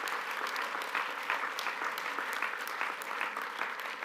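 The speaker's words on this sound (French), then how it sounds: "je veux que vous les applaudissiez, du service d'ordre" A political party rally audience at a French closing session applauds in a continuous, moderately distant wash of clapping that holds steady throughout.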